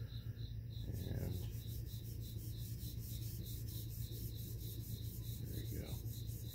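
Steady back-and-forth rubbing of a chisel across a sharpening stone on a TSPROF KO3 universal table, a continuous soft scraping rasp with a faint constant hum underneath and a brief louder scrape near the start.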